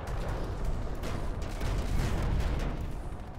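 Anti-aircraft flak and gunfire in a video game, a dense continuous rumble of distant bursts and shots blending into one another, with no clear gaps.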